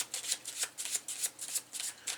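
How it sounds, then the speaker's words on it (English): Mission cards for a board game being shuffled by hand on a table, a quick run of about a dozen soft papery riffling bursts in steady rhythm, close and quiet with no talking. "And then we grab our mission cards, shuffle them up"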